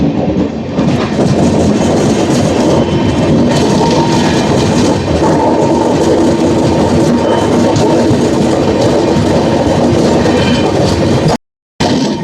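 The Padmavathi SF Express rolls loudly over the track near Venkatagiri, its carriages giving a continuous heavy rumble with clickety-clack from the wheels, close and unbroken, then cutting off abruptly near the end.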